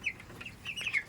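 Several broiler chickens cluck and chirp in short, scattered bursts, close by, with no talking.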